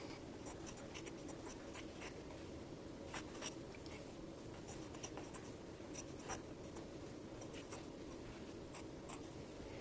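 Scissors cut two long fabric strips for a DIY dog snuffle mat, faint crisp snips and scratchy slicing repeating steadily over a soft constant background hiss.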